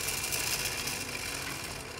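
A pull-back toy tractor with a farmer figure and a tanker trailer rolls along, giving a steady whirring, buzzing hum from its spring motor that stays even and close throughout the clip.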